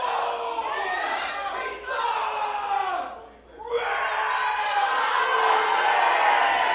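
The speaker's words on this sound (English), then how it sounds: "Man, what a resounding retort from this crowd here in Worcester." A wrestling crowd in Worcester roars together in a loud, sustained shout, briefly dropping off twice before surging back into a full, dense wall of voices.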